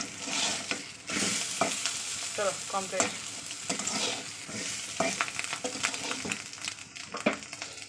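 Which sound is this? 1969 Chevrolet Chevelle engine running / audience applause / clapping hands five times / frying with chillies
frying with chillies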